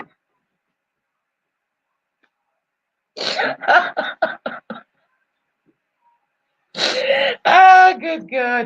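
Coughing from inside a shed, two bursts of rough, rapid coughs a few seconds apart, close and fairly loud with silence between them.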